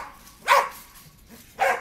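A dog barks twice at home, two sharp, loud, close barks roughly a second apart with quiet between them and no talking.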